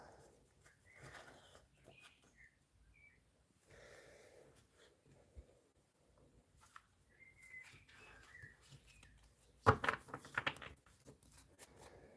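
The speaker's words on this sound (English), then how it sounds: "You'll be able to hear the birds singing now." Faint birds chirping and trilling in the distance, scattered short calls over a quiet background, with a brief rustling clatter near the end.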